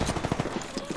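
Rapid automatic gunfire from the video game Apex Legends, a quick burst of close, loud repeated shots.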